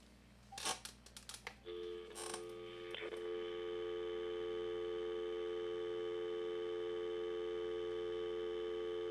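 Analog home landline phone: a few quick keypad dialing beeps and clicks, then a steady continuous line tone that holds unbroken to the end.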